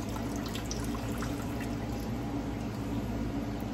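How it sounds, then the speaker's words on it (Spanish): Water drains off freshly washed rice as a steady soft pouring and trickling wash, continuous and moderately quiet, with no voices. "Vamos a escurrirlo bien, que se escurra esa agüita."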